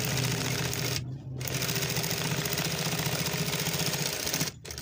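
A sewing machine runs steadily and close, stitching the front placket of a garment with a continuous rapid rattle, briefly dipping twice between passes, with no voices.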